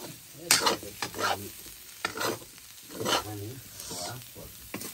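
Cauliflower curry stir-frying in a pan, with steady sizzling and repeated scraping strokes of a spoon in a loose rhythm, close and fairly loud, while a voice talks faintly in the background.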